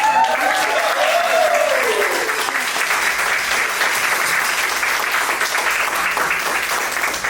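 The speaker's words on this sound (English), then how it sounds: "Let's have a round of applause." Sustained audience applause at a fashion show for breast cancer survivors modeling head coverings fills the room. Dense, continuous clapping holds steady throughout, with a brief tonal sound rising and falling near the start.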